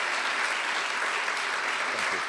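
An audience at a state legislation signing event applauds steadily, a dense, even wash of clapping at moderate distance that lasts throughout.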